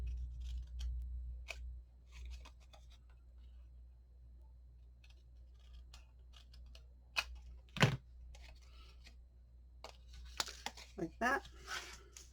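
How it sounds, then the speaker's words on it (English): Scissors snip through paper while a center box is cut out for a handmade mini album, giving crisp, close cuts and paper rustles between brief spoken words. "And I'm just going to use my scissors because I know my line is good."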